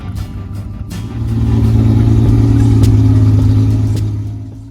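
A Ferrari engine, an unrestored period-correct car at a car show, revs up and holds a loud, steady roar for a few seconds before easing off, close by with no talking.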